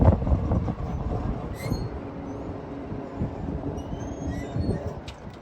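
A train rolls past on the tracks near a greenway, a steady rumbling clatter of wheels with occasional faint squeals, fairly close and continuous throughout with no talking.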